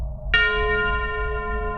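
A bright bell struck once rings out with a clean metallic strike and a long sustained shimmering decay, standing alone over a low background hum as a notification chime.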